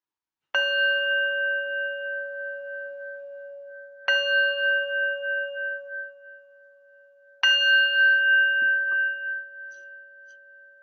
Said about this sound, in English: And I'll start by ringing the bell.